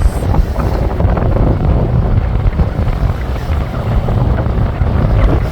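A sailboat moving through a channel, loud constant rush of wind buffeting the microphone over churning water noise, steady throughout with no voices.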